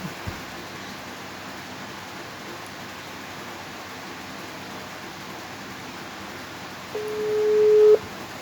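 Telephone call tone while dialing out for a call: a single steady electronic tone about one second long near the end, after a stretch of quiet background hiss.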